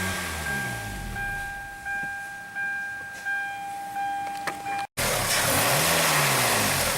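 A Hyundai car engine with a faulty mass airflow sensor, kept running only with throttle, hums close by and surges in a series of revs, then gives way to a louder, rougher roar after an abrupt break. No one speaks.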